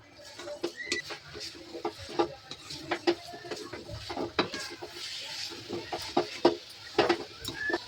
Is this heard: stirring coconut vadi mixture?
yes